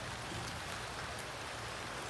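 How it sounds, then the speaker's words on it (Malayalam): Light rain falls steadily over a garden at cucumber harvest time, a soft continuous patter and hiss with no voices. "ചെറുതായി മഴ പെയ്യുന്നുണ്ട്."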